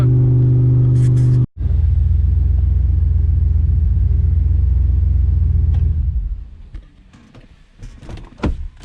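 LSA turbo car driving on the road, a loud, steady low drone of engine and road noise heard from inside that fades out near the end, with a few clicks and knocks after it.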